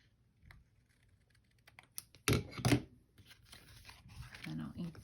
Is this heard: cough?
no